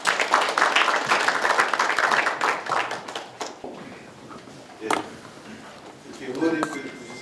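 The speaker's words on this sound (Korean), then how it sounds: "박수로 모시겠습니다" An audience at a semiconductor cluster MOU signing event claps for a few seconds, then the applause thins out into scattered claps and quieter room noise.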